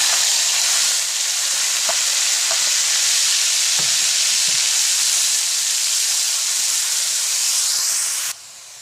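Onion paste for a paneer, cauliflower and pea curry fries in a hot pan, giving a loud, steady sizzle and hiss with a few small clinks of stirring before the noise drops near the end.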